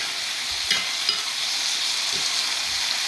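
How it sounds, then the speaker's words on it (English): Tomatoes frying and being stirred in a hot pan while making palak paneer, a steady soft sizzle with a few light scrapes of the spoon, fairly close and with no talking. "You put your tomatoes in there and just mix it a little bit."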